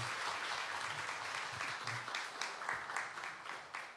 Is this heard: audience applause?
yes